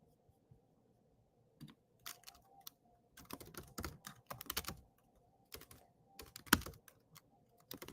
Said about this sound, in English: I'm typing it into, now it's working.